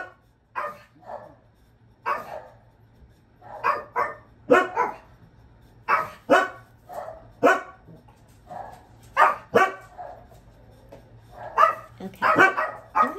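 Dogs barking in a home craft room, a series of sharp barks in irregular bursts at close to mid distance, with some quick clusters of rapid yips, and no talk over them.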